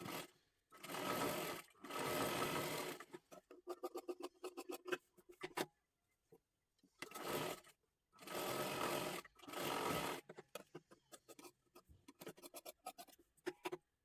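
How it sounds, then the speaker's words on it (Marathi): A sewing machine stitching a seam on a girl's one-piece dress, running in several close bursts of rapid rattling stitches separated by short pauses and quieter handling noises. "पूर्ण शिलाई खालीपर्यंत मारून घ्यायची आहे"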